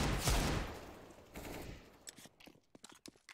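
Automatic gunfire in a Counter-Strike esports match, with a loud sustained burst of rapid shots up front, a second shorter burst, then a string of separate sharp single shots and clicks trailing off.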